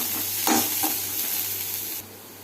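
Soft sizzling of spices and coriander in a pan for egg podimas, with a couple of brief stirring scrapes, steady and quiet, no talking.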